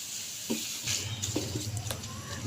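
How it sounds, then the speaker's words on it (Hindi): Gram flour and semolina roast in a pan while being stirred for besan halwa, making a low, continuous hiss with a few light scrapes. Close and moderately quiet, with no voices. "हम अच्छे से भूनेंगे।"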